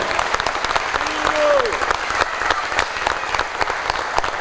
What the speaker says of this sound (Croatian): Ja vas molim da ga pozdravite jednim velikim aplauzom.